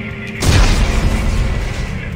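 In the Dead Space 3 video game, explosives detonate with a sudden loud boom. A dense, roaring blast follows and sustains over a low rumble.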